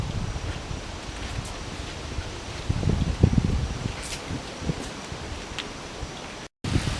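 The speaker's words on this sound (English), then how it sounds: "I know I probably have to edit out some of the wind noise here" Gusty wind buffets the microphone during a windstorm by the roadside beside a Yamaha RD400 motorcycle, a steady broadband rush that swells louder around the middle before a brief dropout near the end.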